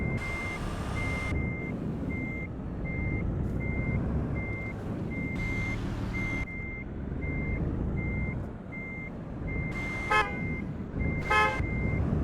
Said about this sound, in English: who has a car alarm that sounds anything like that?